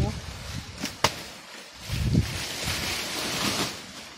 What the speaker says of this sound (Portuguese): Olha o pessoal lá, o vento barulhando, ó.